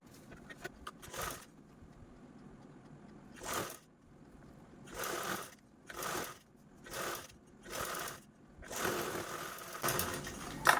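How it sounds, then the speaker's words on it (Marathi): A sewing machine stitches a zip onto a blouse cover in a series of short, close bursts of rapid needle clatter separated by brief pauses, ending in a longer continuous run. "तर अशा पद्धतीने आपण या टिपवरती स्टिच करून घेतलेलं आहे"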